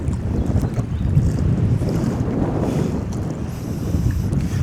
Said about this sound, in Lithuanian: Nes vėjas baisulinis